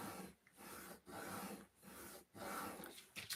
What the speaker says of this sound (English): I'm using the edge of my Teflon tool, and I'm really getting in there and giving it a good burnish.